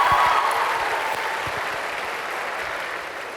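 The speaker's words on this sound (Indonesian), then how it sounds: "Kita berikan aplaus untuk kita semua ya." An audience applauds in a hall with dense, sustained clapping that starts loud and tapers slightly toward the end.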